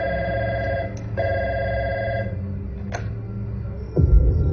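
A telephone rings during a city-wide power cut, with a steady electronic ringing tone that runs for about two seconds, pauses briefly, and then sounds again, fairly loud and close, ending in a dull low thud near the finish.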